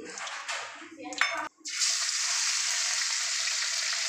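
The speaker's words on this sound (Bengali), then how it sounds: "কড়াইটা গরম হয়ে গেছে, এবার আমি তেল দিয়ে দেবো।" Clattering of a pan, then a loud, steady hiss as oil sizzles hard in a hot wok, continuing evenly to the end.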